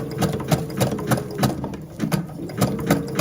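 Sewing machine stitching a 4.5-width zigzag seam joining two edges of fabric for a dog coat, a fast, steady run of close mechanical needle clatter with regular rhythmic pulses, near and alone.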